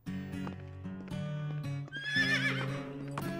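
A cartoon horse in the Horseland animated series whinnies loudly and clearly, accompanied by clip-clopping hooves, with no talking during the sound.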